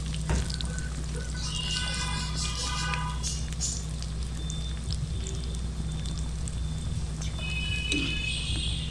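Fritters of telakucha leaves fry in a pan with a continuous, moderately loud sizzle, while scattered pops and a brief clink sound as the pieces are turned.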